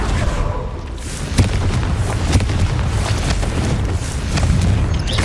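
A Confringo fire spell bursts in Hogwarts Legacy on Xbox, one sharp blast standing out over a continuous dense rumble of combat effects and scattered smaller pops, loud and close throughout.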